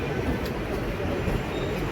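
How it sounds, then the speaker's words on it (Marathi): A Pune metro train pulling into the station, a continuous low rumble and rolling hum from the carriages, steady and fairly loud with no talking over it. "अशा प्रकारे आमची मेट्रो सुद्धा आलेली आहे"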